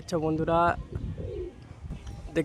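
High line pigeons give a low, wavering coo that follows a voice, which is heard at the start and near the end; the bird call is moderately close and softer than the talking.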